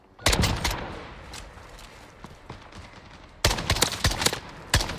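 Gunfire in a shooter video game: two bursts of sharp, loud shots, one near the start and another after a quieter stretch with scattered single cracks.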